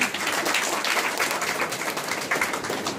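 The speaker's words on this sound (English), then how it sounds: "A round of applause, please." Audience applause at an authors' conference and book launch, a steady dense wash of many hands clapping throughout, fairly loud and continuous with no voices standing out.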